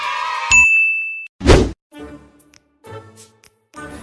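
A phone call sound: a short, clear electronic tone rings for under a second, followed by a loud thud and a few softer knocks, with no voices.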